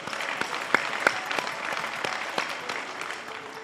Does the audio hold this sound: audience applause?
yes